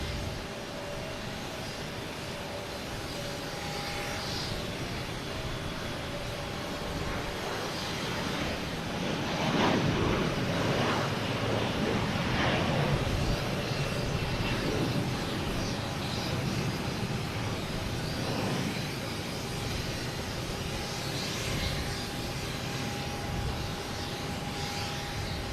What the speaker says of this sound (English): we have Delta E175 heading to